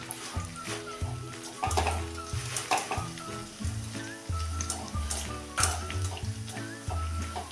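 Raisins sizzling and frying in hot oil for poha chivda, a steady close crackling fry under a light melodic background tune.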